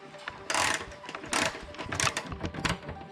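Ratchet clicking in short bursts while bolts are tightened on the front bumper of a pre-facelift Mercedes W204, close and moderately loud, with brief pauses between bursts and no talking.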